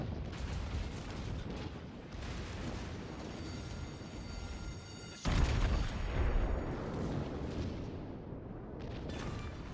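The battleship Montana firing a salvo in World of Warships, a sudden deep booming blast partway through that rolls out into a long rumbling decay over steady naval battle ambience.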